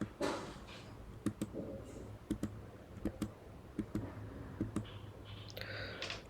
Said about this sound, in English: Just click on enter, enter,